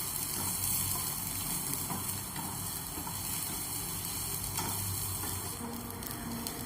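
Chopped onion sautés in a pan on an Indian home stove, giving a steady, dense sizzle and hiss that holds at an even level throughout, with faint scraping now and then.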